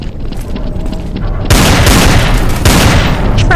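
Rapid, loud gunfire in Counter-Strike: Source zombie survival mod on a storagehouse map, a dense continuous barrage that surges heavier halfway through, with several weapons firing at once and voices barely audible beneath.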